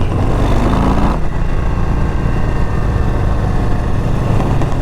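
A 2022 Harley-Davidson Low Rider ST cruiser gives a loud, steady engine drone with wind rush while riding, the tone shifting slightly partway through and holding at a constant level with no talking.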